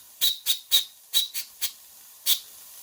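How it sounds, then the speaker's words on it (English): Short bursts of a high whistle with hiss from a Rocking Whale RW-BL1K model steam engine, seven quick toots in an irregular rhythm, fairly loud and close, with no voices. "It's very hard for cameras to pick up a steam whistle"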